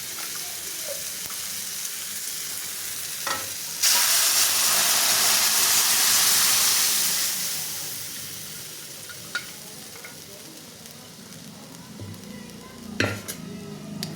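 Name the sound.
dal cooking with tomatoes in a pan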